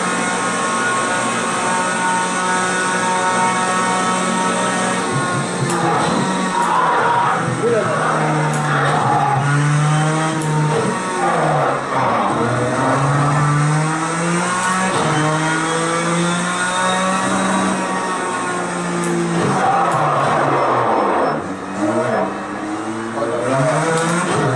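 A racing car engine in a driving video game played on a sim rig seat, revving hard and climbing through gears with repeated rising whines, loud and continuous throughout, while someone talks over it.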